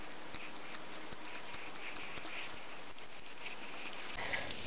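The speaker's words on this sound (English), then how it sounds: "take out your fleece and your scissors and cut the thinnest little piece off of your fleece" Quiet, rapid snipping of scissors cutting fleece fabric repeats in a steady rhythm, close up, with no talking.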